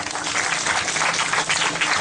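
Brief burst of audience applause at a talk, dense and continuous clapping from a large crowd heard alone throughout.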